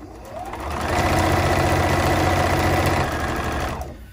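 A sewing machine stitches fabric scraps onto strips of calculator paper in one continuous, steady run of rapid mechanical whirring that starts up, holds and stops, close and fairly loud with no talking.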